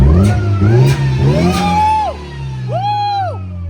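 A car engine revs up in several rising and falling bursts, loud and close, each sweep climbing then dropping back toward idle, with a few voices briefly audible around it.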